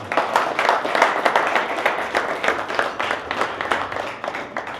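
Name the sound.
applause for the guys at a dinner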